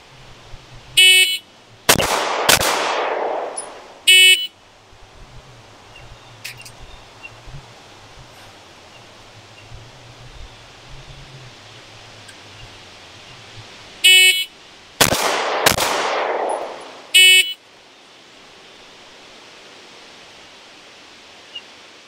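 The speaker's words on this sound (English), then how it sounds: "each time I fire the CZ-75, in each one of these phases, the first shot that I fire is double action" A CZ-75 handgun fires on a range during a New Jersey law enforcement handgun qualification, the first shot double action. Two loud, sharp reports land about thirteen seconds apart, each with a short ringing decay amid quieter stretches.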